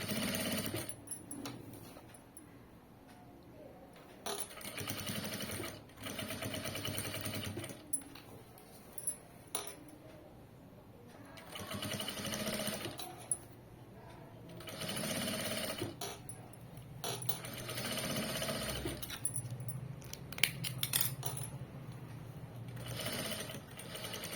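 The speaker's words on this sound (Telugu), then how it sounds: "ఇలాగా కుట్టుకుంటూ వెళ్ళిపోవాలి." A sewing machine stitches lace onto a garment neckline, whirring steadily in long runs broken by short pauses, quiet and close with small clicks and rattles.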